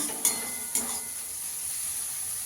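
Spice masala sautéed in a korai for korai chicken, with two quick spoon scrapes against the pan early on, then a steady, close crackling sizzle with no talking.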